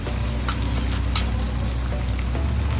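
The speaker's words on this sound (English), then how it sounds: "what I like doing is frying all this in the oil" Spices frying in hot oil for a Malaysian chicken peratal, a steady close sizzle with a few brighter crackles and pops, no talk.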